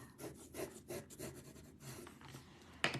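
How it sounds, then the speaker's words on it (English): Pencil shading on paper for a tangle-pattern art tile, a soft close scratchy rubbing in short repeated strokes, ending with a brief sharper tap. "So I've added some pencil underneath there."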